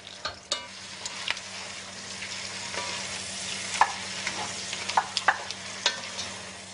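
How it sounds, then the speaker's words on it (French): Endives stirred in butter in a pan sizzle softly at a low level, with scattered utensil scrapes and taps against the pan marking the stirring. "Je mélange afin que tout soit bien recouvert de beurre."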